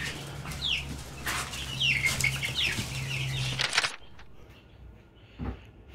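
Chickens clucking and squawking in a new coop, with wing flaps and busy overlapping calls for about four seconds before things go mostly quiet, apart from a brief thump.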